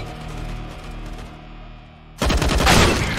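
Gunfire from Counter-Strike: Global Offensive breaks in suddenly after a steady hum, a loud, dense burst of shots that carries on to the end.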